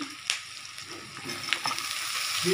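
Tomatoes going into a pan of frying potatoes, onion and garlic for a spicy tangra fish curry, giving a soft steady sizzle with a few sharp crackles and pops, no talking.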